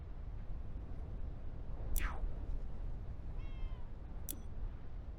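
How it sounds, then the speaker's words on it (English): A cat in the video game PowerWash Simulator gives two short meows over a low, steady background rumble, each meow faint and a couple of seconds apart, with no talking. "Whoa, I hear a cat."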